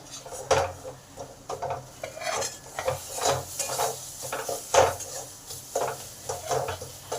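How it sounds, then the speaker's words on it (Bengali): Spice masala being stir-fried for Bengali pancharatna dal, a utensil scraping and stirring rhythmically against a pan with steady repeated strokes and a soft sizzle underneath, close and moderately loud. "এবার ভালো করে এগুলোকে কষে নেব মশলা যত ভালো করে কষা হবে তত ডালটা খেতে ভালো হবে"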